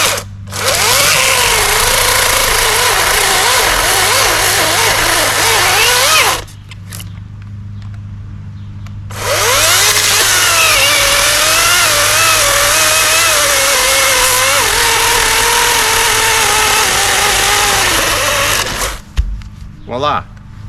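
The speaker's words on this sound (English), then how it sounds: "changing the blade on this Greenworks electric saw" A Greenworks electric chainsaw fitted with a new chain whines loudly and close in two long runs separated by a short quiet pause, then cuts off abruptly near the end.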